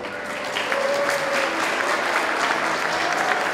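Audience applause at a graduation ceremony fills the room as an award is presented, a steady wash of clapping from many hands with a faint tonal whistle or hum running through it.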